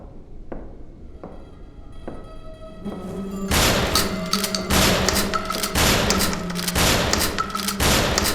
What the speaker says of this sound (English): Gotta see how many hits they take with the shotgun.